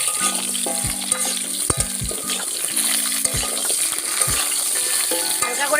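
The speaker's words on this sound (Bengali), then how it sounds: "পেঁপে আলুগুলো এবার আমরা ভেজে নেব।" Papaya and potato pieces sizzle steadily in hot oil with bay leaves and five-spice tempering, while sharp spatula scrapes and clinks against the pan sound up close.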